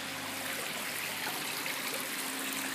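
Water splashes and trickles steadily from a small garden pond waterfall set among plants, a constant close, even babble with no voices.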